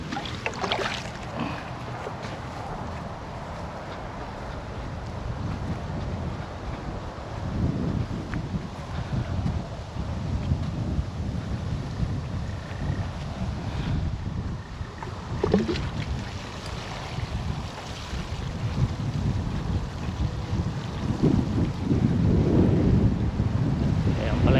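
Strong wind buffeting the microphone near a creek beside cold-damaged crops, a loud continuous low rumble with gusts swelling and fading throughout, no voices.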